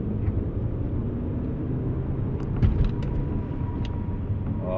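A rebuilt Audi A4 engine runs while the car drives, giving a steady low rumble of engine and road noise with a brief swell near the middle and no voices.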